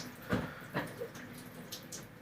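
Room-temperature water poured over a person's head for an ice bucket challenge, heard as a few faint, brief splashes and trickles in quiet surroundings.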